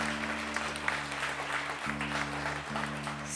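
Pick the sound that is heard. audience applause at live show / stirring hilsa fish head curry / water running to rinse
audience applause at live show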